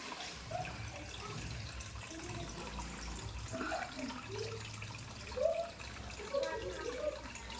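Water runs steadily from a tap into a partly filled water tank, a soft continuous splashing with faint gurgles, fairly quiet.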